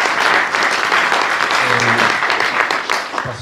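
Sustained applause from a conference audience at a school open day, dense clapping at steady volume throughout, with a voice briefly audible underneath near the middle.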